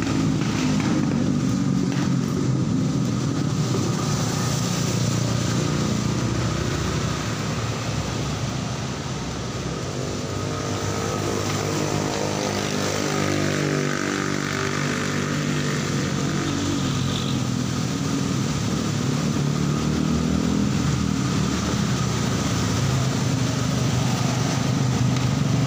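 A Yamaha Mio M3 fuel-injected motorcycle with a suspected short-circuit fault idles steadily, its engine a constant close droning hum with a mild mid-clip shift in tone and no talking over it.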